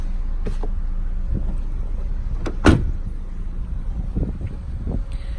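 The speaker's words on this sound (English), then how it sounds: "You'll also have the fold-down seat in the back, the pull of the handle." A 2019 Honda Civic LX sedan's rear seat release handle pulled, giving a single sharp latch clack midway, with softer thumps and rustling around it against steady background noise.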